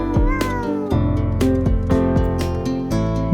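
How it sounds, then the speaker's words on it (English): A cat meows repeatedly in close, loud, drawn-out cries with a strained, caterwauling edge, one call running into the next. "This is a cat."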